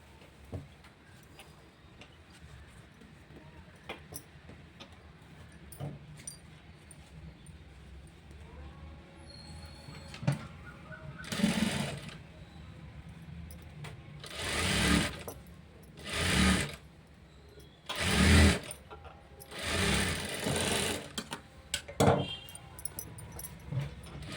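A sewing machine stitches the second side seam of a blouse in several loud whirring bursts of rapid needle clatter, separated by pauses with faint handling noise and quiet talk.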